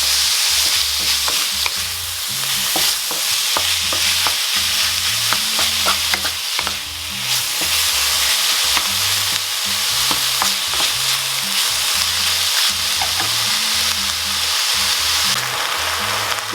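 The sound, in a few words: ground beef mince and onion frying and being stirred in pan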